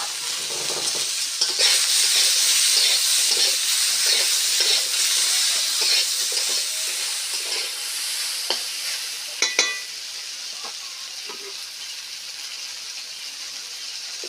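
Sliced ridge gourd fries with turmeric and salt in a hot pan, a steady close sizzle broken by scraping stirs and a few sharp clicks of the spatula against the metal.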